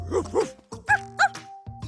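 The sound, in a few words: dog barking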